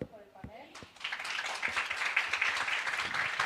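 Audience applause for conference panelists at the SSIG 2022 event, beginning after a brief pause and building into a steady, sustained round of clapping that fills the room.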